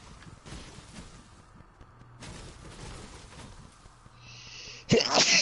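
A single sharp sneeze bursts out loudly near the end, after a stretch of game noise with rumbles and whooshes.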